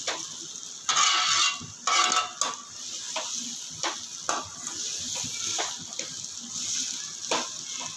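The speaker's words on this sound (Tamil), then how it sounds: "இது நம்ம மிச்சி கழுவுன தண்ணி தான்" Water left from rinsing a mixer jar is poured into a sizzling pan of spicy vermicelli, with splashy bursts and clinks of a utensil over a steady hiss.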